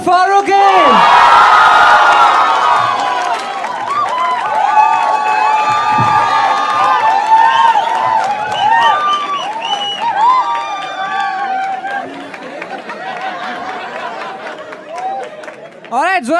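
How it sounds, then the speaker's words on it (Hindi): A studio audience at a comedy talent show cheers, whoops and applauds as the panel is introduced: a loud, dense burst of crowd noise at the start that settles into sustained clapping and shouting, with voices calling out over it. "Make some noise for Raghav Juyal, Niharika NM, Rohan Joshi, and Munawar Farooqi."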